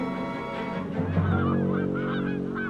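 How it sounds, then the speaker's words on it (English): Canada geese honk in the video game Mystery Case Files: Dire Grove, a flock of repeated nasal honks overlapping near and clear, with no talk. "Also honkers. Canadian geese, you hear them?"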